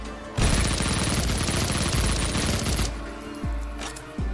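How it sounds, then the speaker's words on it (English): Shotgun fire in the retro shooter Project Warlock erupts as a loud, dense barrage of rapid blasts that stops abruptly, followed by a couple of quick descending electronic sweeps. "I don't know why I'm wasting shotgun ammo on you."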